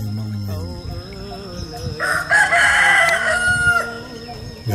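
A rooster crows loudly and close by on a morning in Phnom Pi village, Châu Lăng, Tri Tôn. One drawn-out crow rises after brief background voices and clucks, then trails off.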